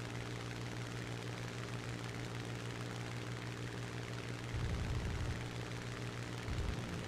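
Propeller-driven warplane engine droning steadily in a multiplayer flight simulator dogfight, with a continuous loud hum that swells briefly louder partway through, alone without speech.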